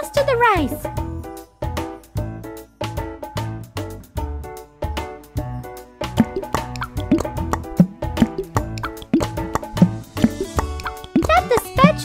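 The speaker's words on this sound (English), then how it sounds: "Add some Japanese sauce to the rice." Cartoon plopping drips as sauce goes onto rice in a Japanese sushi cooking game for kids, repeated soft plops over bouncy game music with a voice talking throughout.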